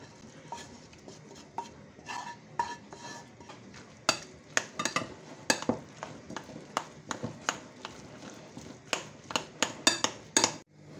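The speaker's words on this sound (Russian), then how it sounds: "Натерла печенку через терочку и соединяю с картофелем. Все перемешиваю." Grated liver being stirred into a mashed potato filling for vareniki, a spoon knocking and scraping against a bowl in a quick irregular series of sharp, close clicks and thuds, with no talk.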